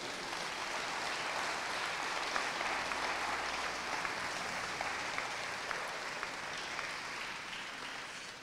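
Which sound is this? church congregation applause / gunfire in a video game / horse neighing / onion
church congregation applause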